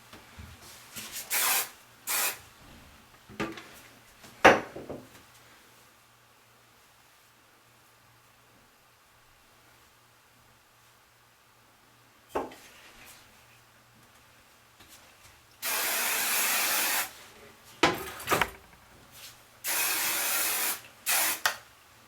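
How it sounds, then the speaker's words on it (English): Several bursts of hissing aerosol spray, two long and a few short, with quiet rustling and long pauses between. "And then we'll finish with some hairspray."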